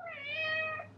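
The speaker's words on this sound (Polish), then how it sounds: "No, słyszycie? Głodny kot?" Hungry house cat giving a single drawn-out meow, close and clear, about a second long.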